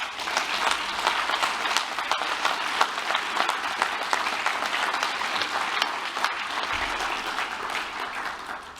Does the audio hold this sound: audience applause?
yes